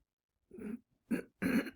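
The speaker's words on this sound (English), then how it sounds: "Really sorry about me clearing my throat." Three short, close throat-clearing rasps, fairly quiet, with the last two stronger than the first.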